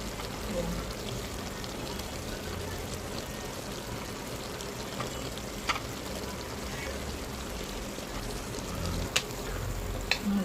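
Chop suey vegetables frying in a pan give off a constant, fairly loud sizzle and hiss with occasional light ticks and clatters, steady from start to finish with faint talk underneath.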